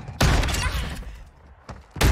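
Shotgun blasts in a video game: three loud, close booms, a heavy one at the start, a softer one midway and another at the end, each with a short decaying tail.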